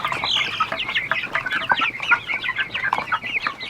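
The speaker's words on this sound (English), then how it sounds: "Chickens on grass, finally." Young meat chickens clucking and chattering steadily as a flock on grass inside a movable tractor pen, a busy layered stream of close, overlapping calls with no talk.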